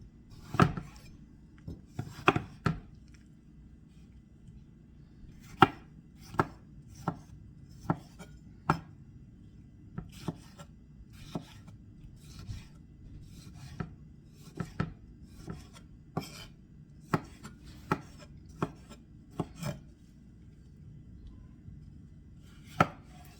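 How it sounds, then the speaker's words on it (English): Knife chopping tomatoes on a kitchen board, a run of crisp separate cuts in an uneven rhythm, close and clear with little background noise. "chop some tomatoes up"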